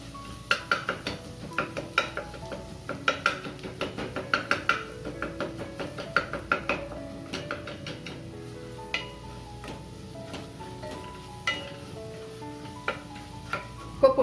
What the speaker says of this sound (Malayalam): പൊടികൾ ചേർത്താൽ പിന്നെ വേഗം ഇളക്കി കൊടുക്കണം